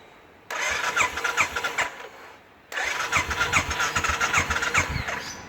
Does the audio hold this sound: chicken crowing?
no